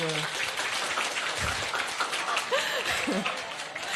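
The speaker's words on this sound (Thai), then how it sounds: "ขอเสียงปรบมือ" Audience clapping at a Thai presentation event, a steady dense patter of applause filling the whole stretch with faint voices mixed in.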